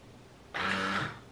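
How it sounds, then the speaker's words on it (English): The small motor of a Baseus soap dispenser under repair starts up abruptly and whirs with a steady, faint high-pitched buzz for about half a second before winding down. "the motor should start spinning"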